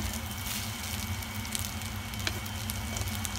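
Nasi goreng being stir-fried in a wok, giving a steady, continuous sizzle with faint scraping clicks of stirring throughout, close and alone with no talk.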